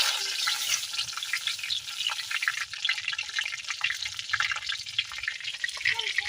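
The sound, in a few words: green chilies and nigella seeds frying in a pan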